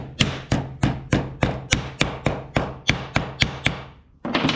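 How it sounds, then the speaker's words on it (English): A hammer strikes a steel washer clamped halfway in a vise, bending it over 90 degrees to make a snare lock: about a dozen sharp, evenly paced metallic taps close by, then a brief pause before one more blow. "Put your washer in halfway in your vise and just tap it over 90 degrees."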